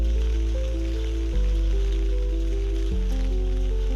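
Heavy, unbroken rain pours steadily, a constant wash under a loud, low droning hum that shifts pitch a couple of times.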